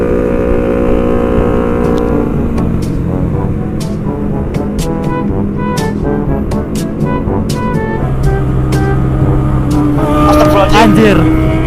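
A Yamaha R1 motorcycle with an aftermarket exhaust idles with a steady, droning tone and then rises in pitch as it revs near the end. Voices talk over it throughout.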